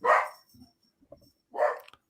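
A dog barks twice, a sharp near bark at the start and another about a second and a half later, with faint small sounds in the quiet gap between.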